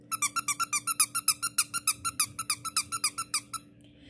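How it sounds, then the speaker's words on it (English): A squeaky dog toy is squeezed rapidly and repeatedly, about twenty sharp, high, evenly spaced squeaks in a steady rhythm, close and loud, before stopping. "I squeak a lot."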